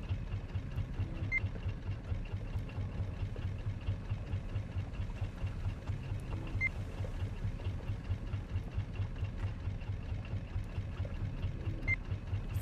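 A raft's boat motor runs in the survival video game Raft, a quiet, steady low chugging hum that holds evenly throughout with no voices.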